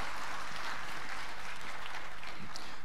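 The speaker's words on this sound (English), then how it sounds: "So please join me in thanking, providing applause for Pak Musri." Conference audience applause for a speaker at an energy industry plenary session, steady dense clapping from a large room throughout.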